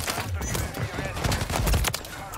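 Rapid bursts of light machine gun fire in Call of Duty: Modern Warfare 3, dense rattling shots overlapping with other game effects at moderate loudness.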